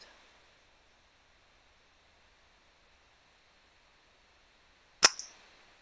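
A single sharp report from an FX Dreamline air rifle fired at a zeroing target, coming suddenly after several seconds of near silence and decaying quickly with a faint ringing tail.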